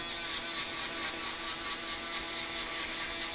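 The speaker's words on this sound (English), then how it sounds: "we're gonna go in with our shaver and just knock off all that stubble" A steady electric buzzing whir, close and continuous, of an electric shaver removing stubble in a barbershop, with no pauses or talking.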